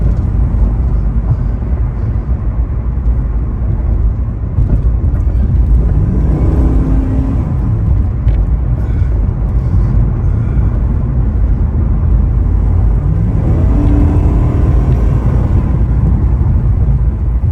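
A 1988 Chevrolet Camaro IROC-Z with low mileage is heard on a test drive, its engine a steady low rumble with road noise throughout, rising twice as it accelerates through the gears, with no talk.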